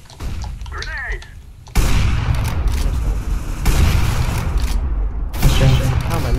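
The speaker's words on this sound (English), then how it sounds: "I throw the flashbang." Loud bursts of gunfire and a sharp flashbang blast in a competitive Counter-Strike: Global Offensive match, several heavy volleys breaking in abruptly one after another, close and dominant.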